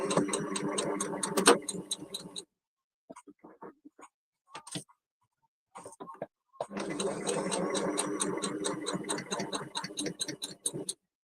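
A sewing machine stitches fabric pieces for a padded Christmas tree, two long bursts of rapid, even mechanical chatter separated by a quiet pause with a few soft handling clicks.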